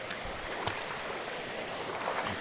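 A small waterfall gives a steady, broad rushing wash of falling water that stays even throughout, with no talking.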